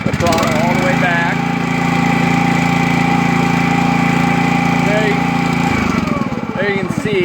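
Ride-on spreader sprayer engine held at full throttle, around 3450 RPM, a loud steady drone close by that barely varies.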